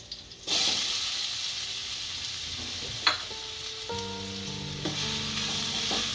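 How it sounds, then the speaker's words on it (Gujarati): Onions hit hot oil with garlic for a spinach curry, setting off a sudden loud sizzle that holds steady. A sharp clatter lands midway, and soft tonal music enters toward the end. "આપણું લસણ ગરમ થઈ ગયું છે આમાં હવે કાંદા નાખીશું"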